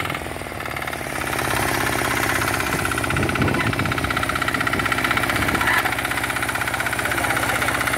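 A Yanmar L70 tractor engine runs while plowing a freshly harvested field, with a close, loud, rapid chugging beat that holds steady throughout.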